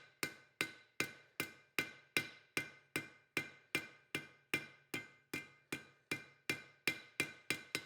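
Steady ringing hammer blows on metal on an anvil while forging a hinge, about two strikes per second, each clang bright and decaying quickly, close up with no voices.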